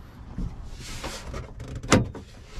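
A car door's power lock actuating in a junkyard vehicle, one sharp mechanical clunk standing out over faint background noise, close and alone.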